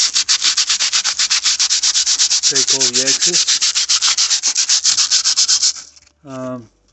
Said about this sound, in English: start filing this, sanding it, and give it a shape.